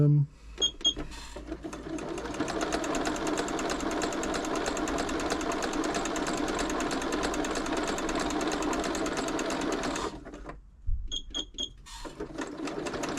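A Janome Memorycraft 3000 sewing machine, on the bench for a service, runs a zigzag stitch in one sustained, busy, mechanical burst of about ten seconds. Shorter bursts and clicks come before and after, and a voice is briefly heard.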